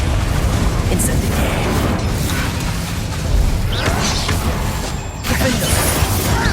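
Incendio fire spell blasts from Hogwarts Legacy on PS5, a continuous roaring, crackling burst of bangs and crashes with sharp bursts near the end, loud and dense throughout.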